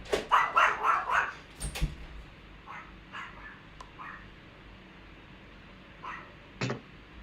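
Japanese Spitz and Pomeranian dogs, including puppies, let out a quick burst of high, yappy barks, then scattered fainter yips and one sharp bark later over a steady background hiss.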